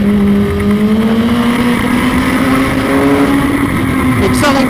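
A motorcycle engine drones at speed on a road, around 130 km/h, a loud steady hum with a slowly rising pitch and heavy wind rush throughout.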